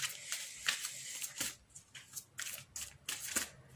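Tarot cards shuffled by hand in a series of quick riffling, flicking bursts, close and fairly quiet, with short pauses between handfuls and no talking.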